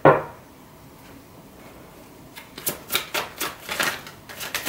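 Tarot cards being shuffled by hand, a string of crisp papery riffles and taps in quick rhythm building up after a short quiet start, close and fairly loud with no talking.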